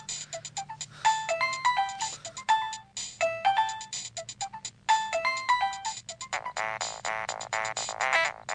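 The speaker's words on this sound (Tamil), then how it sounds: "ரொம்ப நேரமா ரிங் போயிட்டு இருக்கு, எடுக்கவே இல்ல?" A mobile phone ringtone plays a bright, repeating electronic melody in looping phrases with short gaps, loud and close, alone without any talking.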